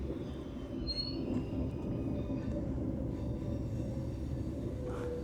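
Train pulling out of Oslo station heard from inside a carriage, a steady low rumble of wheels on rail with faint thin squeals and clatter over it; no talking.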